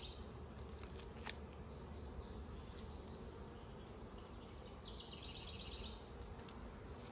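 Bees buzz continuously during a hive inspection of a mating nuc, a faint, dense, steady hum from many insects with a few nearer passes and no talking.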